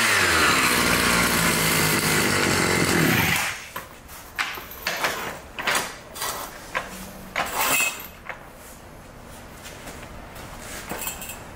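Gas-powered impact wrench running at a steady high-pitched whine for a few seconds, then cutting off into a series of short bursts and clunks, loud and close.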